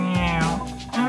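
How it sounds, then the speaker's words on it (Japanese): A wildcat in a LEGO Minecraft jungle skit gives a short, wavering, meow-like cry, close and loud, with the pitch gliding in two quick phrases. "うわ、珍しい山猫だ。"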